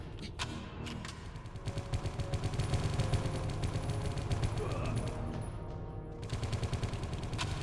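Rapid gunfire from a gun in a video game, with bursts of loud close shots and clattering reports running almost continuously, a voice heard faintly beneath.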